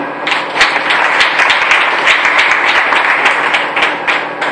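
A church congregation at a Sunday service applauds together, a dense burst of many hands clapping steadily and fairly close, sustained for several seconds with no voices on top.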